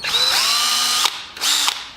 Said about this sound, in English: the center drill is a great idea